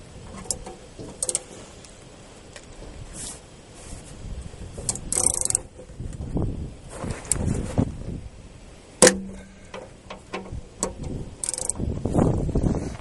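A socket ratchet works loose the oil drain bolt on a car's oil pan, giving a run of sparse clicks and clacks with a few sharper knocks, some close and fairly loud, over a quiet background.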